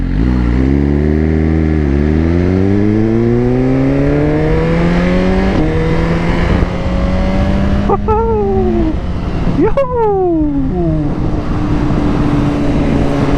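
A Suzuki Gixxer 1000 motorcycle engine runs loud and close while riding, its smooth tone climbing steadily through the gears with two sharp rev rises near the end.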